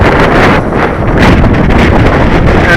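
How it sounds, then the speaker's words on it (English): Strong gusty wind buffets the microphone outdoors at a model flying field, a loud, continuous roar that surges and eases over a few seconds with no talk. "the wind's getting a bit gusty now"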